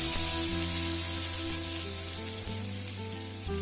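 Curry leaves and cumin, with mustard seeds, sizzle in hot oil for a kovakkai poriyal as a steady, close, loud hiss that holds without a break, a faint tonal hum running beneath it.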